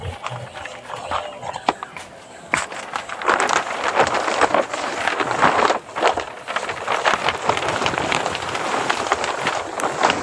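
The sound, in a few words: heavy rain falling on tarpaulin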